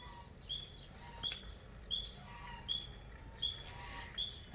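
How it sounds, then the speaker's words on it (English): A squirrel gives short, high bird-like chirps in a repeating series, about one every 0.7 seconds, fairly faint and distant over a soft background hiss. "That sound you're hearing in the background, that's a squirrel."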